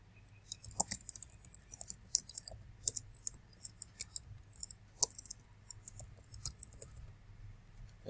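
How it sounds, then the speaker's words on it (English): Mouse clicks while signing in to Microsoft Azure during an ASP.NET deployment: a dozen or so light, sharp clicks spaced irregularly over a low steady hum, fairly quiet and close. "So I click on sign in."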